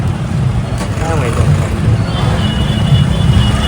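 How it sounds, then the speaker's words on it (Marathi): Cars and trucks rumble through a busy market street in Ujjain, a steady low roar of road traffic that runs throughout while people talk over it. "ट्रॅफिक आहे."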